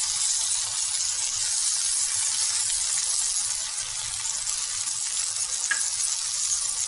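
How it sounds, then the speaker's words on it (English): Tofu grilling on a hot sizzler plate with sauce, red pepper and salt gives a steady, bright sizzle. The sound is continuous and close, with no talking over it. "So we are grilling tofu for sizzler then."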